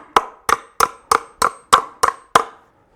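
Eight sharp hammer strikes land in an even rhythm, close and loud, each ringing briefly before the next, then silence.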